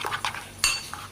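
Cream being stirred into chicken in a pan for a Turkish-style chicken dish, a few short scrapes and clinks of a spoon against the pan, close and fairly quiet, with one sharper metallic clink midway.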